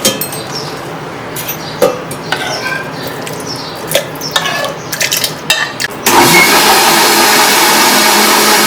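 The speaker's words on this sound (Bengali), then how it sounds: "নিয়ে এবার এটা মিক্সির মধ্যে দিয়ে এটা পেস্ট বানিয়ে নেবো আগে" A kitchen mixer grinder blends boiled, cooled raw mango into a smooth paste. A few clinks of the jar and lid come first, then the motor starts into a loud, steady whirring roar that runs to the end.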